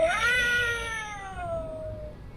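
An animatronic Big Lots Halloween zombie kitty prop lets out one long, drawn-out meow that slides downward in pitch, fairly loud over a steady background hum in a store.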